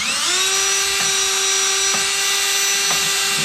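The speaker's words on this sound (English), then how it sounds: "we're just wire wheeling with the valves, cleaning them" A spinning wire wheel whines steadily against engine valves from a 1969 Plymouth Fury's Mopar 400 big-block head, a loud sustained high-pitched tone broken by about three brief scraping contacts.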